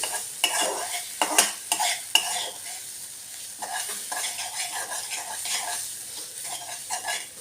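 Egg curry masala with red chilli powder sautés in a pan, close and lively, with a steady frying sizzle broken by sharp spoon scrapes and clinks against the metal in an uneven rhythm.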